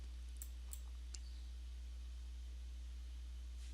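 A computer mouse gives a few soft, quick clicks close together near the start, then stops, leaving a faint steady hum.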